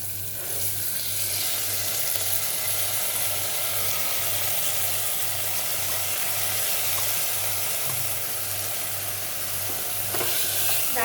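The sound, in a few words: onion and dal sautéing in hot oil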